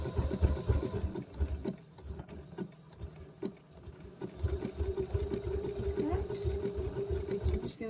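Handles are sewn onto a denim tote bag made from jeans, the sewing machine whirring in close, uneven runs as it follows a square pattern, with a few brief clicks and no talking.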